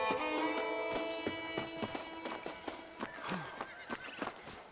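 A horse in the Red Dead Redemption video game clip-clops along with rhythmic hoofbeats and lets out a whinny, set against a sustained musical score; no talking.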